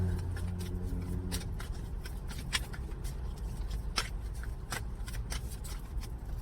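A deck of tarot cards is shuffled close by, a series of rapid riffling flutters and crisp snaps repeating through the clip over a low hum, with no speech.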